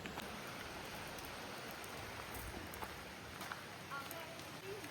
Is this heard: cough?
no